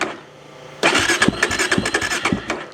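A Kawasaki Z400 motorcycle engine, a project build not yet tuned at idle, cranks and catches, then runs in rough, uneven pulses with a few revving bursts, close and loud, with no talk.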